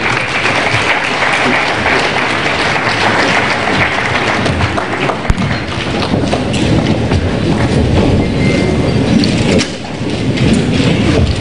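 A ceremony crowd applauds the Vice President of Nigeria, a dense, continuous wash of clapping that stays loud and steady throughout without a break.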